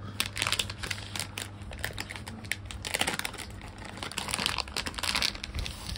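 A plastic wrapper on fried-egg-shaped popping jelly candy crinkles and crackles as it is handled and opened, a close, continuous rustle with sharp crisp bursts throughout.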